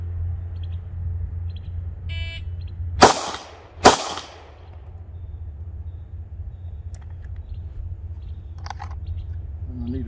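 Two sharp, loud pistol shots crack about a second apart during a shooting drill, each with a brief ringing decay, followed by quiet room ambience and faint clicks.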